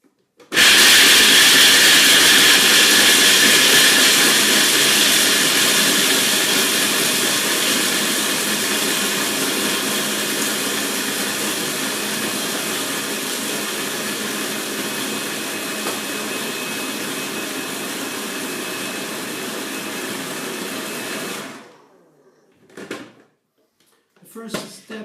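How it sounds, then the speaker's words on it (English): A food processor grinds almonds into coarse meal for a raw vegan blueberry strawberry pudding pie, a loud, steady motor whir running continuously for about twenty seconds before stopping abruptly, followed by a few brief bumps. "First step, just grinding the almonds."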